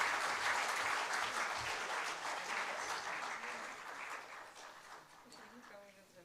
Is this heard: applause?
yes